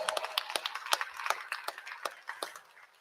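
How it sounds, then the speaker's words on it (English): Applause from an assembly audience for students at a Black History Month convocation, with dense rapid clapping close by that fades gradually toward the end. "Let's give all of these students a round of applause."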